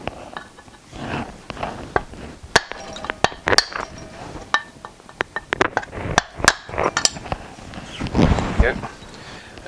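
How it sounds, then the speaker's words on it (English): Several light metallic hammer taps on a BSA motorcycle gearbox part ring out at irregular intervals, close by, with soft handling noises and faint talk between them. "Might need a wee tap. I'm going to use a hammer."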